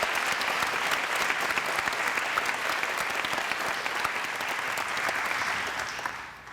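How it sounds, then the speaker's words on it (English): A choir concert audience applauds steadily for several seconds, a dense wash of clapping that tapers off toward the end. "Let's give them a big round of applause."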